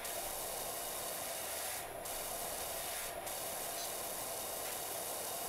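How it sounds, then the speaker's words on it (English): Pressure washer spraying in the video game PowerWash Simulator, cleaning a garage roof: a steady, loud broadband hiss runs throughout, with two brief sharper bursts partway through. "Problem being that we're spraying it with the 25"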